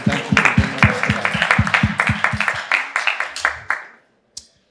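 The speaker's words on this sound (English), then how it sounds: "So please help me give them a round of applause" A small audience at a tech panel on the permaweb gives a round of applause to the panelists, with distinct rhythmic claps close by that fade out, then one final lone clap after a pause.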